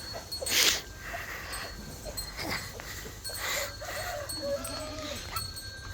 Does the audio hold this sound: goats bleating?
yes